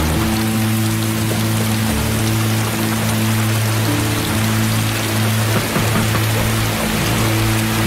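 Steady rain falls on a surface, a dense even hiss with scattered drops under a constant low hum, with no talking.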